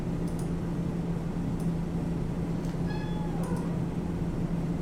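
A cat gives one short, fairly faint meow under a constant hum of steady background noise.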